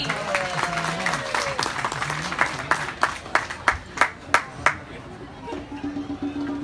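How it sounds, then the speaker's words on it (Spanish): At a Warsaw 2019 show of impersonators, the crowd claps for a performer named Josie, starting under chatter and voices, then a run of sharp, separate claps before the noise thins and a tone hums. "A ver, un aplauso para Josie."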